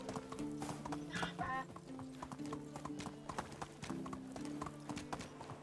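Horse hooves clip-clopping at a steady gallop in the medieval survival game Medieval Dynasty, loud and rhythmic throughout with a brief whinny, over a musical backdrop.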